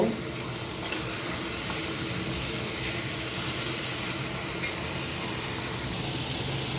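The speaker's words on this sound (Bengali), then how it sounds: "ফ্রাই করছি, হালকা ফ্রাই করে নিচ্ছি" Liver and stomach pieces lightly frying in a pan give off a steady, even sizzle and hiss that holds at a constant level from start to finish, with no voices.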